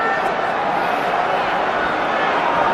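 Dense, steady roar of a rugby stadium crowd at an England versus Argentina international, a continuous broadband wash of massed voices with no breaks, loud and sustained throughout.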